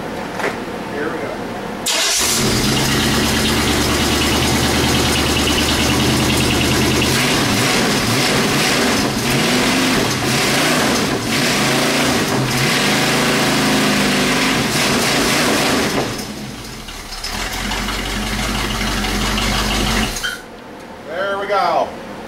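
A 1979 Camaro Z28 V8 runs loud and close on an engine stand, with a steady roaring idle that holds for about fifteen seconds before cutting off, and a voice is briefly heard.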